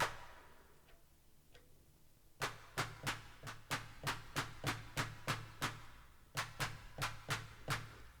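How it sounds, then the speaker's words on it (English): Original unprocessed clap from an Analog Rytm drum machine, struck as a steady run of about fifteen sharp, bright hits in an even rhythm after a quiet start, with a short pause before the last few. "that was the original sound of the clap."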